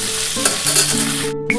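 Vegetables for a vegetarian curry sizzle loudly as they are lightly fried in a pan, with stirring scrapes and clatter over a constant hiss.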